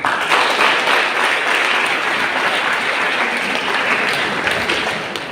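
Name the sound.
audience applause for students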